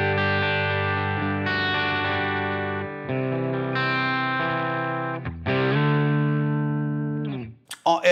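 Sustained clean electric guitar chords from a humbucker pickup through a Line 6 Helix Placator clean amp model ring out one after another, smooth and slightly shimmering with a little breakup, ending with a few quick picked notes.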